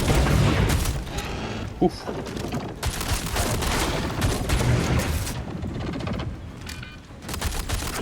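Video game gunfire from an enemy snake creature sounds as rapid bursts of shots and booms over busy combat noise, with players talking throughout.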